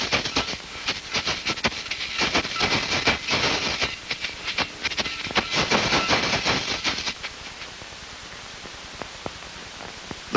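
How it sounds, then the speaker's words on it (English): A metal shokeo shaker filled with pebbles rattles in rapid, hissing bursts for about seven seconds, loud and close, then falls quiet apart from a few faint clicks. "Here's the shokeo, a metal instrument with pebbles inside."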